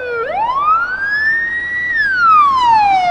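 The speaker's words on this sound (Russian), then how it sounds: "Карета скорой мчится на место дорожной аварии." A loud, close ambulance siren sweeps up in pitch, holds, then slowly glides back down over a low traffic rumble.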